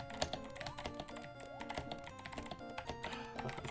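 Fast, heavy keystrokes on a loud computer keyboard during a session of Mario Teaches Typing, a close, steady stream of clacks and taps alone without speech.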